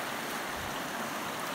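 Creek on a snowy day in British Columbia: a constant, dense rush of flowing water, close and steady with no pauses and no voices.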